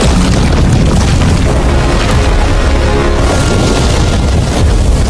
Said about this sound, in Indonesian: Ledakan itu ternyata berhasil membuat Yoten terbakar sepenuhnya